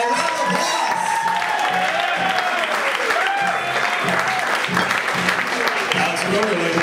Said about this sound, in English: Give it up for the very funny Kevin Kinner, everybody. Round of applause.